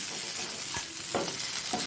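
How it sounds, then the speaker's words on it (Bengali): Two dried red chillies fry in leftover hilsa fish oil with a continuous close sizzle, and a few louder bursts of spitting and stirring come through it. "এই তেলের মধ্যেই দুটো শুকনো লঙ্কা ভেজে নেব।"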